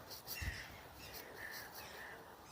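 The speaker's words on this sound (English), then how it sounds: "See, lots of birds are nesting." Birds nesting at the Rock of Cashel give a few faint, crow-like caws from some distance, scattered over a quiet background of open-air hiss.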